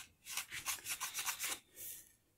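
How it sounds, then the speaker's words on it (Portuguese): Plastic interior trim on a Volkswagen Gol G2 being cut by hand, a quick series of about seven rhythmic rasping scrapes followed by one longer stroke, close and fairly quiet with no talking. "eu vou cortar um pouquinho mais aqui"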